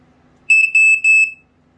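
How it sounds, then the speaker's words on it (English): A toy elevator alarm gives three short, shrill electronic beeps in quick succession, loud and close, with near silence before and after. "Better hit the alarm."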